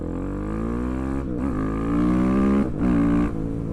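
A single-cylinder supermoto motorcycle fitted with a Leo Vince full exhaust revs hard and close up, its throaty engine note rising, dropping briefly twice and climbing again under throttle.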